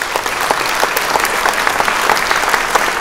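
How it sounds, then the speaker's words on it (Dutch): An audience at a literary festival evening in The Hague gives three young poets a loud, sustained round of applause, the clapping dense and continuous throughout. "Geef ze een applaus."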